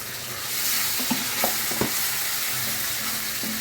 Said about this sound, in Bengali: সব কিছু দিয়ে দেওয়ার পরে এখন সুন্দর করে আমি কষিয়ে নেবো